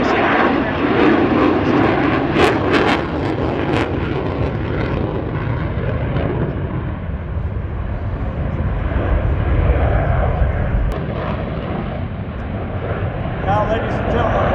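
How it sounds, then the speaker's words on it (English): An F/A-18 Hornet jet flying at an airshow roars loudly and steadily overhead as a continuous broad engine rumble, while an announcer's amplified voice talks over it. "Hornet is unique in its ability to operate at slow speeds and at high angles of attack"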